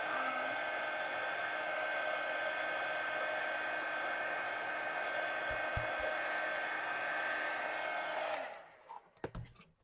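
A heat gun blows with a steady, loud whooshing hum for about eight seconds while drying glue on a collage steampunk mini book, then cuts off, leaving a few soft handling knocks.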